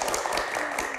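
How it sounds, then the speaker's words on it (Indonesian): Brief burst of dense applause from a television studio audience, steady and fairly loud throughout. "Tepuk tangannya mana?"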